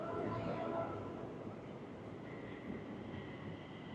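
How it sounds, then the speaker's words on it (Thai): A Bangkok Skytrain pulls into the station at Pathumwan intersection, a steady rumbling rail roar with a faint high whine, busy city ambience around it. "รถไฟฟ้ามาพอดีเลยเห็นไหม"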